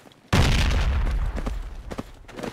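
Gunfire in the tactical shooter game Project Reality: a loud, sudden burst that cuts in abruptly and rolls on as a sustained roar, followed by several sharper individual shots and pops.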